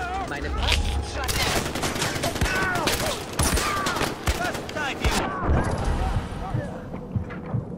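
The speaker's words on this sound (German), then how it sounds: "kannst du aufhören, rumzuschießen, sonst muss ich gleich schießen" Dense automatic gunfire and rifle shots rattle without pause in the Far Cry 4 video game, loud and continuous, with a German-speaking player talking over the shooting.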